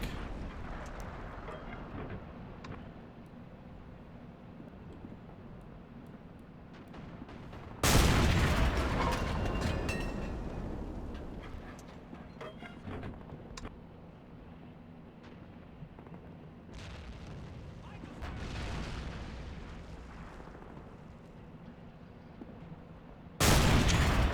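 Heavy German anti-aircraft flak firing in a WWII game set in the 1944 Baltic offensive, distant rumbling booms with several loud, sharp close blasts standing out against a low continuous battle din.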